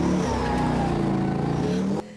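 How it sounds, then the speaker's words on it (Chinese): A Soviet-era T-64 main battle tank's engine roars loudly and steadily up close, a deep droning growl that drops off sharply at the end. "引擎声发出轰轰巨响，巴赫姆特乌兵操作主战坦克"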